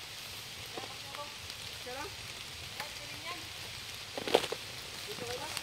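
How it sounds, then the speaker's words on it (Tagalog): Light drizzling rain patters faintly as a soft, steady hiss outdoors, with voices and a few sharp knocks over it. "Ang lakas ng ambon."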